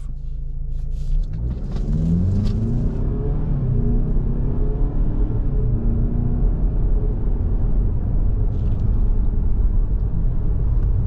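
A 2025 Lincoln Corsair SUV with a 2-liter turbo engine pulls away, its deep engine rumble rising steadily as it accelerates and then holding a loud, even drone, with no talking.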